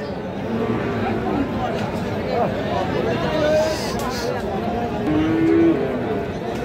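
Cattle moo at a weekly rural market for Friesian and crossbred bull calves in Ghoraghat, Dinajpur, with low drawn-out calls rising over constant crowd chatter and people talking nearby.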